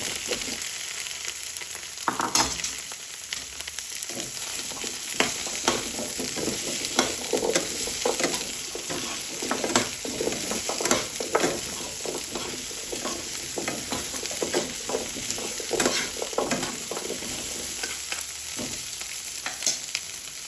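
Squash cooked with shrimp paste sizzles in a frying pan while a utensil stirs it, giving steady frying hiss under repeated scraping strokes, with no talking.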